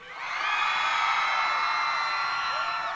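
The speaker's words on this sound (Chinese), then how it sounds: "但是我想要再听到一次现场的尖叫声" A concert crowd at a Hualien Pacific tourism festival New Year's Eve show screams and cheers in one sustained, dense roar after a countdown. The roar swells quickly and holds for about three seconds.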